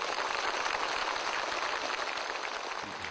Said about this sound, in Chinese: 你看山东老乡给你多热情的掌声